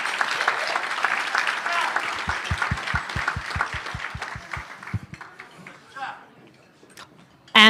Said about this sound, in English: if we wouldn't mind just giving a round of applause to the staff at the Arden Park for their exceptional